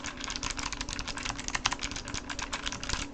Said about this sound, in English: I'll go ahead and do some keyboard typing here.